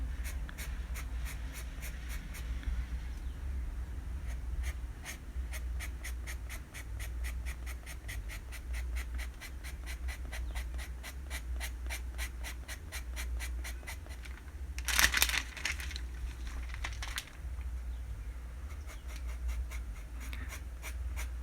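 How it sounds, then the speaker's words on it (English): A sharp pencil pulls quick, fine strokes across paper to draw realistic hair, making a long run of close, regular scratchy ticks, with a brief louder rub midway. "Notice how I'm pulling the pencil."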